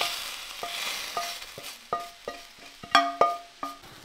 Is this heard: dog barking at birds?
no